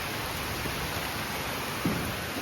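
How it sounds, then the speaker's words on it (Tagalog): Steady rain falling outdoors, a dense even hiss with no breaks, close and fairly loud. "Umulan na."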